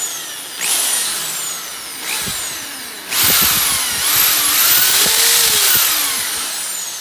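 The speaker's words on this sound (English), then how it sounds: "I'm gonna start by just taking a drill with a 7/16 bit" An electric drill with a 7/16 inch bit whines up close in three bursts, the last one long and steady with the motor pitch shifting as it bites.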